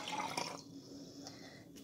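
Water is poured into a jar for a kitchen science experiment, a soft, steady splash and trickle heard close up and fairly quiet over a short stretch, with no talking.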